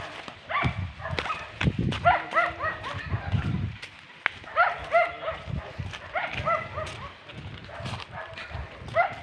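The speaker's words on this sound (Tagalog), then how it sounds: "Buti ba yung aso, hinahabol kami." A dog barks in repeated bursts while chasing people walking along a rural path toward a river, the yaps clustered and fairly close, with footsteps and rustling underneath.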